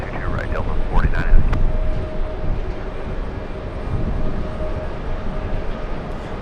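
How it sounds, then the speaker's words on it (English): A Delta Boeing 767 jet arriving at JFK airport gives a broad, distant rumble with a faint whine, heard under voices talking. "Let's go and zoom in to the Delta flight 767 flying in from Keflavik."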